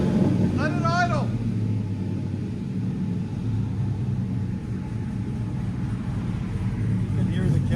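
A 2007 Chevy van with a cammed 6.0L V8 and Flowmaster 40 dual exhaust idles on a cold engine, giving a steady low rumble throughout with a brief voice partway in.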